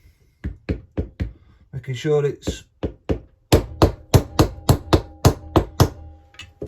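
A bar taps a seal into a Husqvarna 346XP chainsaw during a rebuild. It makes a string of sharp, close knocks, first spaced out and then in a quicker steady rhythm, while someone talks briefly.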